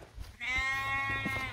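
A sheep on a farm along the Limestone Way lets out one long, clear, wavering bleat close by, with faint background noise around it.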